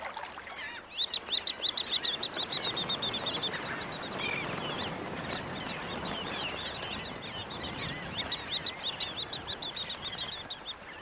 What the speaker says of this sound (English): Now, millions of birds, sanderlings, redknots, ruddy turnstones descend on the beaches to partake of an egg feast.